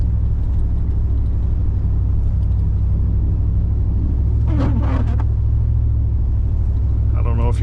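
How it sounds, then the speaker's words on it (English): A truck engine labors on a snowy winter road, a loud, steady low rumble that runs the whole time, with a brief voice-like sound partway through. "I don't know if you guys can hear the truck kind of struggling and grunting around or not"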